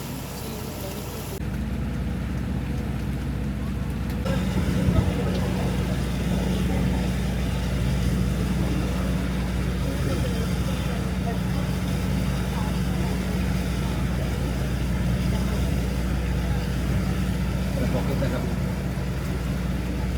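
A safari boat motor on Periyar Lake in Periyar Tiger Reserve, Thekkady, drones steadily and evenly for the whole stretch, with voices talking over the continuous engine rumble.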